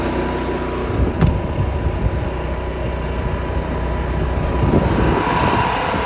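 A Cummins gas generator runs on a 2017 Forest River Berkshire FR3 28DS RV, producing a steady, fairly loud engine drone that holds without a break.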